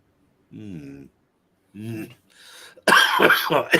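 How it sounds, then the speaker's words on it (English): Two short, close coughs, followed by a louder burst of throat noise and rough breathy sounds. "Even though I'm having a cough"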